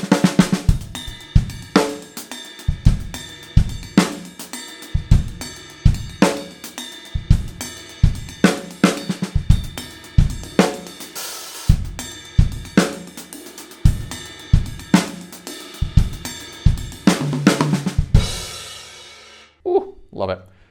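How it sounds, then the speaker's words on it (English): A drum groove plays with steady ride cymbal wash over soft ghosted strokes and solid kick and backbeat hits, ending with a cymbal ring and a brief spoken voice. "The other variation is to just jump up on that ride cymbal, play all the ghost notes up here"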